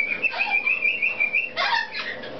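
A male Major Mitchell's cockatoo lets out a sustained shrill whistling call that breaks into a harsher squawk, loud and close, with no talking over it.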